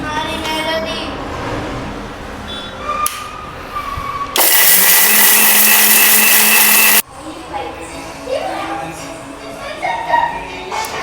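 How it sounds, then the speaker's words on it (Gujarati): An electric mixer grinder whirs loudly for about three seconds as it grinds homemade masala, a steady high-pitched roar that starts and stops abruptly, with people talking before and after. "પથ્થર ઉપર આપણે વાટતો હતો પણ આ મિક્સર નીકળ્યું તે સારું મારા ભાઈ"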